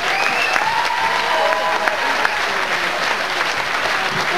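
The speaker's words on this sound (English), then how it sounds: "a big round of applause" Crowd at a boxing fight breaks into loud sustained applause, dense clapping filling the hall for several seconds with a few scattered cheers and some talk underneath.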